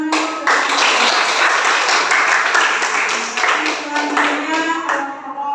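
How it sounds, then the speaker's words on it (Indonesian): Classroom students clapping together for a presenting group, loud and continuous rapid handclaps filling the room for several seconds. "beri tepuk tangan dulu"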